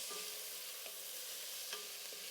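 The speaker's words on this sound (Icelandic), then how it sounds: "Leyfum lauknum að svitna." Onions sweating in a pot, a soft, steady low sizzle with faint occasional ticks, quiet and continuous with no voices.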